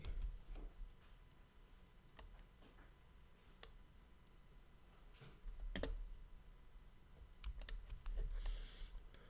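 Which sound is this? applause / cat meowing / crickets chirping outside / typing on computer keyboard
typing on computer keyboard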